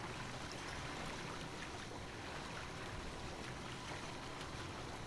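Broad, steady water noise in the video game Little Nightmares, a continuous wash like flowing or lapping water that stays even and fairly loud throughout with no talk.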